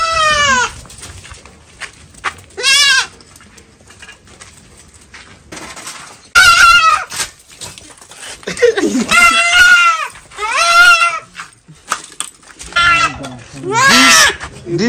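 Loud, close bleats of farm goats, several harsh wavering cries in bursts separated by quieter pauses, with some voices in between.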